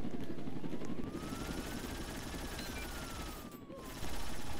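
A helicopter from the Roblox Jailbreak video game drones steadily with a low, dense rotor rumble that dips slightly midway, while a faint tone rises and falls across it.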